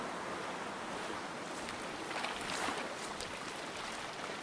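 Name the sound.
speedboat travelling to the coast in a video game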